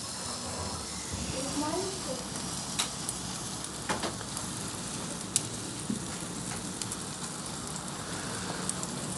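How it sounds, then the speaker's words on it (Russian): Fish steaks sizzle on a hot gas grill, making a steady, close hiss with occasional sharp crackles and pops throughout. "Слышу, шипит хорошо"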